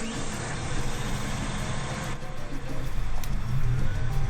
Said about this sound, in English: It is a loud tractor.